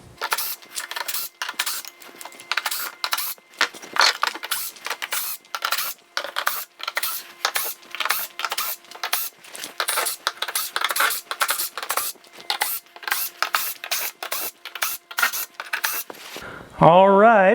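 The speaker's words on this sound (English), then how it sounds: "so let's undo these screws" A screwdriver backs out screws from the shipping crate of a Hispano Aviation U2 Ultimatum 2.0, making a long run of close, crisp clicks and scrapes in quick irregular bursts, with a brief voice at the very end.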